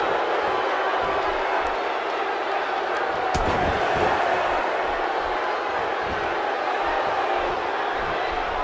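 Steady, loud wrestling arena crowd noise in WWE 2K17 during a Divas tag team match in Cleveland, Ohio, a continuous roar of cheering filling the whole stretch with a brief sharp impact near the middle.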